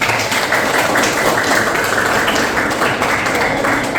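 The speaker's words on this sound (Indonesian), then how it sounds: "Tunggu, tepuk tangan." Classroom applause during a network topology lesson in an Indonesian school, steady broadband clapping from a group of students lasting throughout, fairly loud and close with no pauses.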